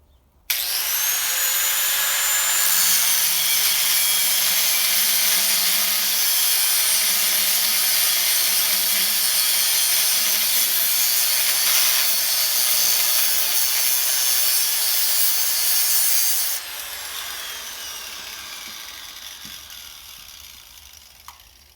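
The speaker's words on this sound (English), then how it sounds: "I'm just going to get the grinder and I'm just going to cut it." A grinder cuts through a worn metal main shaft on a gleaner combine, a loud, steady, harsh whine and scraping grind lasting about fifteen seconds before it drops away into a quieter spin-down.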